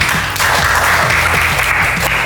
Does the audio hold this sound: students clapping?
yes